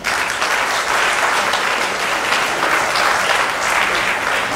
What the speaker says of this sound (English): Let's have a good big applause.